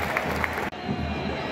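Crowd in the stadium stands at a Vélez against River football match applauding the player Prato: a short burst of massed clapping and cheering heard from within the crowd, fairly loud, with a brief break midway.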